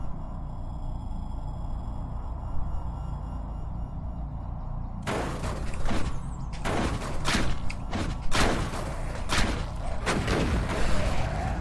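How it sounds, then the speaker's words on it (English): A grenade hack going off in the video game Cataclysm DDA, a quiet rumbling lead-in, then a run of heavy blasts and thuds that repeat loudly over several seconds. "Just about took our arm off with the grenade hack. Explosion was a lot bigger than I thought it'd be."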